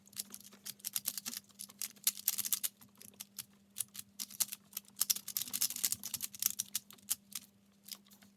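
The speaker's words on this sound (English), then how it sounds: "So we're just gonna shuffle it up." Rapid plastic clicks and clacks of a Rubik's cube being twisted to shuffle it, close and crisp, in irregular bursts with a faint hum underneath.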